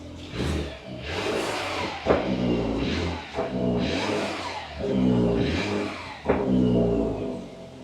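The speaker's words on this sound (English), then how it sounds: "this has definitely got a modified exhaust on it" A BMW engine fitted with a modified exhaust runs close by, its loud, raspy note swelling and easing in several repeated revs with sharp pops between them.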